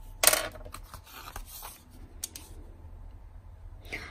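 Scissors cutting paper for scrapbooking give a sharp close snip at the start, then softer scattered snips and paper rustles, with another crisp cut near the end, quiet and with no talking.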